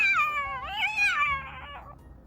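A cat in the video game Love and Deepspace gives a long, wavering, plaintive meow, clear and close, rising and then trailing away, with no voices over it.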